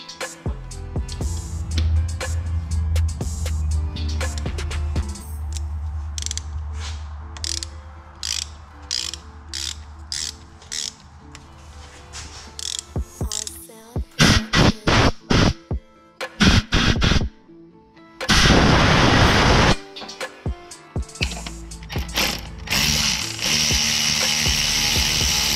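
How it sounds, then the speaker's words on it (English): A tap socket on a ratchet cutting threads into an engine cylinder head gives rapid, close clicking pawl runs in bursts, ending in a few louder, harsher grinding passes. No one speaks. "we're gonna tap this into the cylinder head"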